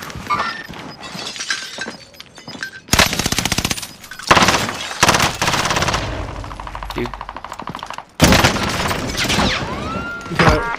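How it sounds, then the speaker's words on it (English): Gunfire in the PC game Call of Duty: Warzone, a quads match: dense bursts of automatic weapon fire and sharp cracks, loud and close, in repeated volleys with brief pauses, with players talking over it. "somebody shooting at you?"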